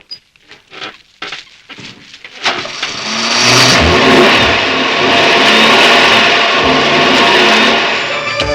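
A car engine revs hard and holds a loud, sustained roar after a few seconds of quieter rumbling and knocks, straining as though too weak to pull the vehicle along.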